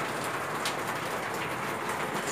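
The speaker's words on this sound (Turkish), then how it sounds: "Yağmur dersen maşallah hiç durmadı." Rain falling steadily in a village garden, a constant dense hiss of drops on surfaces, soft and even throughout with no voices.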